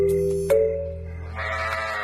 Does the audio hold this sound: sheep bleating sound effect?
yes